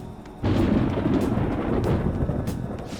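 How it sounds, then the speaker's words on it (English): A low rumble of thunder in Persona 5 Royal rolls in suddenly and keeps grumbling steadily for a few seconds, deep and booming. "It sounds like it's going to rain."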